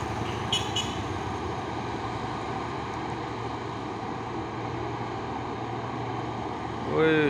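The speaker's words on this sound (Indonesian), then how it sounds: "mantap banget truk trailernya" A BSA Logistik trailer truck engine rumbles steadily on an uphill climb where a Hino truck struggled, a low continuous drone with traffic noise around it and no pauses.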